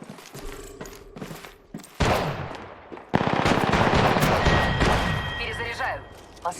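Video-game gunfire bursts out in rapid automatic volleys, loud and close, mixed with impacts and thuds while a player talks over the shooting.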